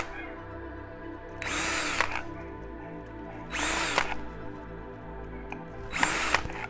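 A power drill boring drainage holes through plastic Solo cups in three separate whirring bursts, each lasting about half a second to a second, over a quiet, steady background hum.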